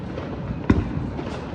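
A Diwali firecracker bomb bursts once with a single sharp, loud bang partway through, a short rumble trailing after it over steady outdoor background noise.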